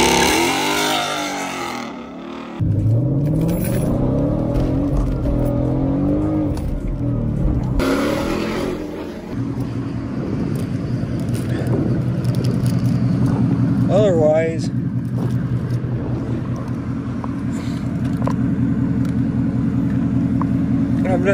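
A Ford Mustang engine revs hard and roars continuously as its tires spin, with rising and falling pitch and squealing bursts, loud and close with rumbling underneath.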